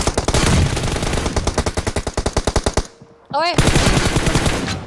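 Sustained machine gun fire in a one-on-one video game match, a long, loud burst of evenly spaced rapid shots. A short voice cuts in during a brief pause, then another loud burst follows.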